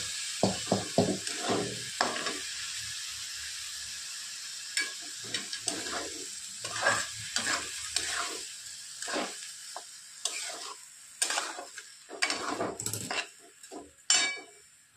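Rice being stirred and sautéed in a pan, a soft sizzle broken by repeated scrapes and metallic clinks of a spoon against the pan, close and uneven in rhythm.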